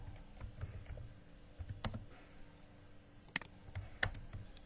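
Light typing on a computer keyboard, a sparse, uneven scatter of quiet key clicks close by in a hushed room, with no talking.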